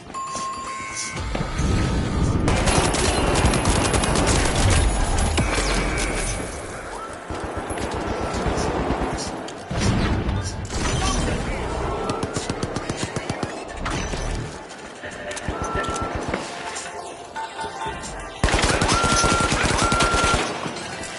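Automated turret gunfire in The Finals shooter video game, long loud bursts of rapid automatic fire with short pauses and some impacts and shattering, mostly continuous throughout.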